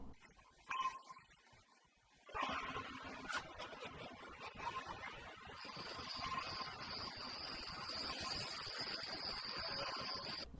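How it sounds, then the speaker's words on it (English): Steady high-pitched cricket chirping fills the background after a brief quiet start, with faint clicks and rustles underneath. "Why are the rats making cricket sounds?"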